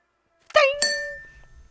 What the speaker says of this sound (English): What sound does a bell make? It just made one.